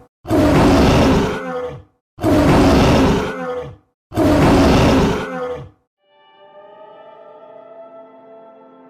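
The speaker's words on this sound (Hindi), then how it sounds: "अचानक उसने दौड़ से किसी शेर के दहाड़ने की आवाज सुनी।" A lion roars three times in an animated moral story, each roar a loud, rough blast lasting over a second with short gaps between, followed by a quieter, fading tonal ring.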